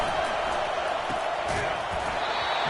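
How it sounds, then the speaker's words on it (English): A stadium crowd roars in the NCAA 25 college football video game, a dense, sustained wash of cheering that stays loud throughout, with a commentator's voice speaking over it. "The roar of the crowd trying to fuel this defense to keep them pinned in their own end."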